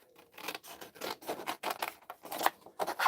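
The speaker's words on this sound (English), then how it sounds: "I'm just going to cut this in half" Paper cut in half with a series of crisp, close snipping strokes in quick irregular bursts that grow louder toward the end, with no talking.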